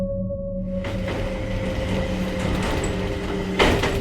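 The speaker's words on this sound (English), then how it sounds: "The train started off from the station just after the announcement finished." A train in an anime starting off from a station, with a steady low rumble, a humming tone, rattling carriages and a sharp clunk near the end.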